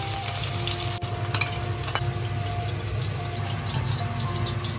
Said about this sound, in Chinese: 先把焯好的五花肉放在锅里取出油脂